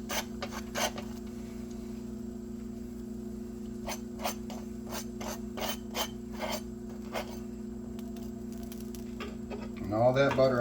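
Butter brushed onto the side of a grilled cheese sandwich as it cooks, heard as soft repeated bristly scrapes and dabs over a steady low sizzle-like hum.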